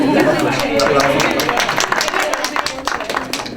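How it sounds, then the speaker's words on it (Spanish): A classroom audience breaks into applause, dense clapping that builds then thins into scattered claps over a few seconds, heard alongside people talking. "Un aplauso."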